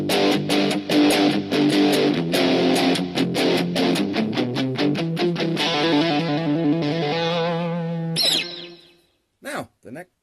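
Godin Radiator electric guitar on the neck pickup with tone fully up, notes and chords with a thick, effected tone, played steadily and fairly loud, ending in a brief swoop and a couple of short bursts.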